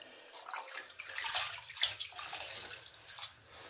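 Tap water running and splashing into a bathtub while a cat is bathed, a steady close wash of water with small splashes and drips rising and falling throughout.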